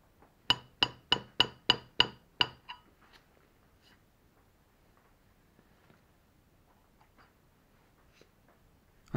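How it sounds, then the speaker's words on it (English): Hand scraping metal with a chisel scraper: six or seven sharp, evenly spaced clinking strokes up close, then near silence with faint small scrapes and ticks. "I'm pressing the chisel down little more than just resting my arm on it."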